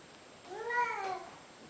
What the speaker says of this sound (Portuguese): Olha, o gatinho.